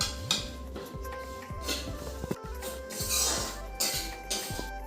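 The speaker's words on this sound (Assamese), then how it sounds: "আৰু এতিয়া ভাজি আছে তিল।" Sesame seeds roast in a pan while a utensil scrapes and taps against the metal in a steady repeating rhythm, with light rattling of the seeds close by.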